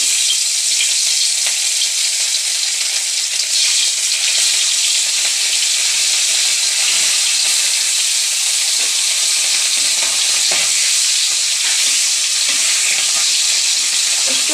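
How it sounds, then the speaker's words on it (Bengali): Loud, steady sizzling of parshe fish frying in a hot wok fills the whole stretch, a constant crackling hiss with no talking. "আমার কড়াইটা গরম হয়ে গেছে আমি এখন মাছটা দিয়ে দেবো"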